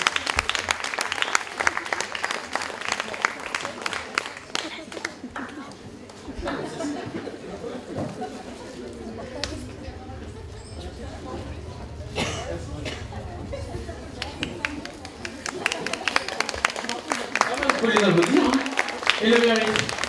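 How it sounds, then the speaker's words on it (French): Audience applause at a BBox event honoring a Jean Claude Biguine salon team, moderately loud and steady for about twenty seconds, mixed with crowd chatter and occasional chuckles, swelling again toward the end. "Non, encore, vous pouvez les applaudir"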